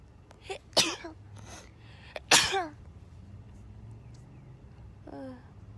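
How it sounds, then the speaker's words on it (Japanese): Two sharp, close human sneezes arrive a second and a half apart, each with a breathy burst, followed by quiet room tone and a faint vocal sound near the end. "くしゃみです。"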